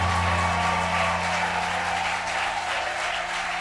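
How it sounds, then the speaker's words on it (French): A conference crowd at an event on innovation and technology for gender equality in Lualaba applauds continuously, with a thick, even wash of clapping over a steady low hum from the hall's sound system. "saluer sa présence par des acclamations et des cris de joie"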